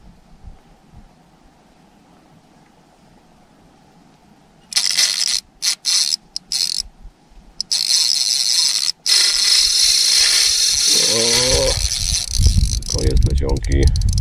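A fishing reel's drag screams as a large predatory fish strips braided line off the spool, a loud continuous buzzing whir in stuttering bursts that becomes steady, with rumbling handling noise near the end.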